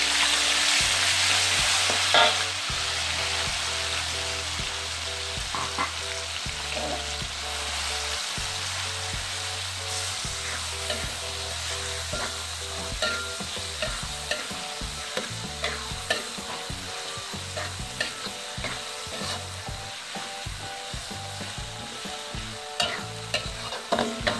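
Chili sizzles and spits in hot oil for a long stretch, with a low rhythmic hum and occasional stirring clatter underneath, while cooking dendeng lambok.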